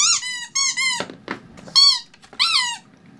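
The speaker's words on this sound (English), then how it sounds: "Do you want to make it squeak?" A squeaky object bought for a dog makes several sharp, high squeaks in short bursts, each one close and loud, with quiet rustling and thumps in the gaps.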